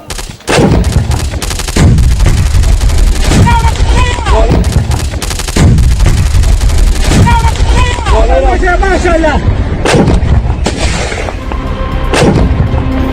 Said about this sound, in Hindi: ये गोलीबारी पंजशीर से लगी अंद्राब घाटी से हो रही है।